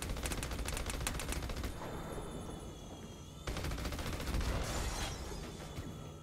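Minigun in the video game Battleborn firing continuously, a loud dense stream of rapid shots that briefly eases and then resumes, with metallic ringing in the background.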